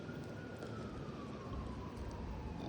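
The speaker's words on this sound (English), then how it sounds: "More sirens." Faint emergency-vehicle sirens wail in the distance at night, a thin rising and falling tone that is barely audible over a steady, noisy background.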